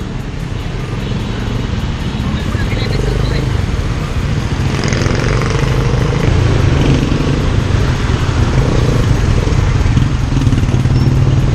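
A motorcycle taxi engine drones loudly and continuously nearby, its low rumble building slightly over time, with wind noise and possible voices mixed in.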